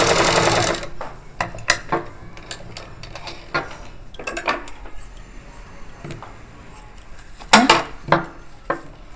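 A sewing machine stitches fabric during a beginner tailoring lesson, running in short bursts of rapid mechanical clatter separated by pauses and sharp clicks.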